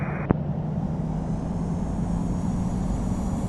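A Boeing 787-9 airliner taxiing in the flight simulator game Infinite Flight, a steady low engine rumble and whine holding level throughout, with one brief click near the start.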